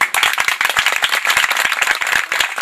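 An audience claps steadily as guests are invited onto a stage at an event about the mother tongue in South Azerbaijan, the dense, even applause filling the hall without any talk.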